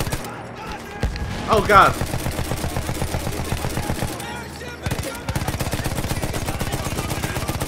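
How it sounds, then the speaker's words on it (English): Battlefield 1 MG turret firing in sustained, rapid machine gun bursts with a brief pause midway, loud and close, with a man briefly exclaiming near the start. "Lay him down with the MG turret."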